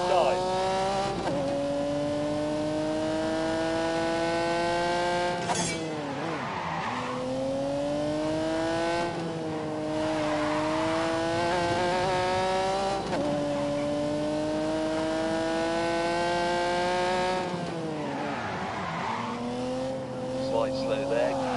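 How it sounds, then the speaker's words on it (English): A 5-litre V12 race car screams through the gears in The Grand Tour Game, its loud, steady engine note rising and falling with each upshift and lift, with brief tyre squeal between, while a voice talks over it. "When you unleash this 5-litre V12, it would do 180 miles an hour."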